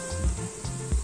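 Skinless turkey pieces seasoned with white pepper and salt sizzle and fry steadily in a pan for a traditional Algerian tlitli dish, with a few louder spits and bumps as the meat browns, no talking.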